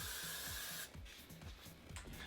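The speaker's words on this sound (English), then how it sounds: "I'm gonna freeze it in place with hairspray" Hairspray hisses onto a synthetic wig in one short, close burst lasting under a second, followed by quieter handling noises, with no speech.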